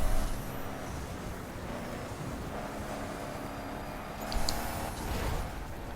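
Volkswagen Touareg SUV with a heavy diesel engine racing in The Crew, a steady low engine drone with road and wind noise throughout, swelling briefly near the end.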